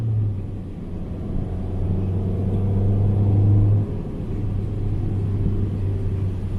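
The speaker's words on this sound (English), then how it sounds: "the aftermarket exhaust sounds really good, especially for such a tiny engine and car" A 2015 Fiat 500 Abarth's aftermarket exhaust hums and drones steadily at low pitch, rising slightly in a brief rev before settling back into a cruising rumble.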